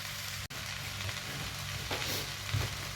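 Chicken lo mein stir-frying in a pan, a steady soft sizzle with a brief sharp tap near the start and faint clatters of stirring, with no talking.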